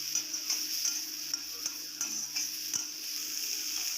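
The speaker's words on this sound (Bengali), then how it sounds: "সয়া সস দেওয়ার পরে এখন আমি আবার ভালো করে একটু মিক্সড করব।" Spoon stirring momo filling in a pan after soy sauce is added, soft sizzle under a series of light scraping taps and clicks spaced irregularly, fairly quiet and close, no voices.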